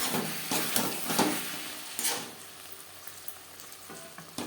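Fish cooking with green tomatoes in a pan for macher jhal, a low sizzle broken by bursts of stirring and spatula scrapes, louder early and quieter toward the end.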